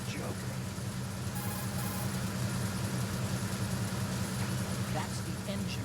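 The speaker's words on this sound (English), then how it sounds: "The engine noise is pretty loud, but that means the enemy's hearing will be hampered too." Loud, steady engine-room drone aboard a tanker in Metal Gear Solid 2, a continuous low rumbling hum with a faint mechanical hiss, unbroken throughout.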